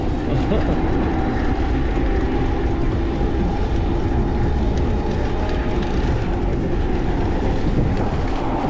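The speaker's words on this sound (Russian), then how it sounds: "Осторожно, электричка." An electric suburban train in Crimea passing close by with a loud, steady low rumble and rolling rail noise for the whole stretch, occasional faint rhythmic clatter underneath.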